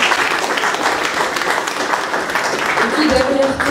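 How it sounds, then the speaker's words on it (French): Audience applauding at a film premiere for "Au delà de l'hôtel", steady dense clapping throughout with a voice faintly talking underneath near the end. "parce qu'on peut applaudir"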